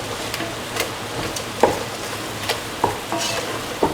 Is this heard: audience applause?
no